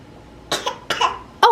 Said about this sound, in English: She just coughed